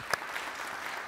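Audience applause at a lecture hall event, a brief burst of clapping from a crowd, fairly loud and close, lasting about a second.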